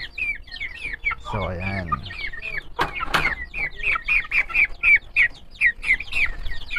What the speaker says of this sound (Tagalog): So ito naman yung mga Brahma ko na maliliit dati na in-upload ko sa inyo.